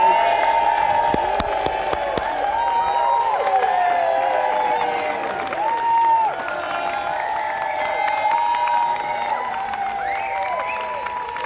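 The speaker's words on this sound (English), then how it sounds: "we're going to send you on your way with a lovely cheer from the crowd here at the Senedd" A large outdoor crowd cheers, whoops and claps at the Senedd in Cardiff, a loud, steady roar lasting throughout with scattered shrill shouts and whistles rising above it.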